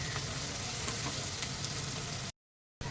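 Onions fry in a pan with a continuous close sizzle and faint crackles, then the sound drops out briefly and resumes.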